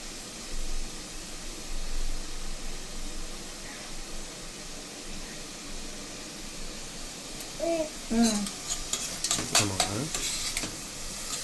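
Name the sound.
onions sautéing in a pan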